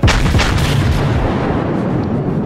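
Battleship main guns firing in World of Warships, a single heavy booming salvo that starts the sound, loud and close, then rolls off in a long rumbling decay.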